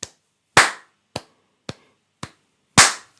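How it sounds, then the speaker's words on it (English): Six sharp hand claps in an uneven rhythm, some louder and fuller than others, close and clear with silence between. "So if I clap 4 beats"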